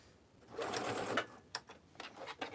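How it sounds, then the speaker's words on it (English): A sewing machine stitches a tote bag about an eighth of an inch from the edges, with a steady whirring run followed by several short, quieter bursts of stitching. "I am just sewing it 1/8 of an inch away from the edges"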